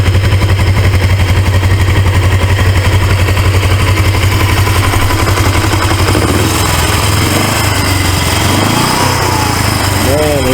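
An automatic 1980s Suzuki GS450A motorcycle engine runs close by with a steady, fast mechanical rattle in drive gear, the pulsing chug loud and continuous before the tone shifts and wavers toward the end.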